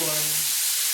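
Thick cut peppered bacon sizzling in a pan, a bright steady hiss with a brief voice at the start.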